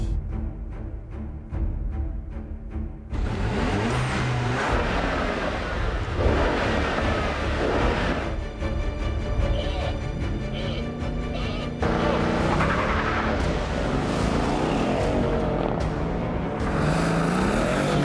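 A car engine roars and revs hard on a race circuit with tires spinning and scrabbling, loud and continuous, with a brief quieter stretch at the start.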